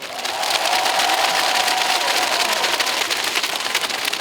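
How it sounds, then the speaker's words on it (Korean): Audience applause at an outdoor apple festival concert, a steady burst of clapping from a crowd lasting about four seconds, fairly loud and dense. "한번 다 같이 응원 한번 박수 한번 보내드릴까요?"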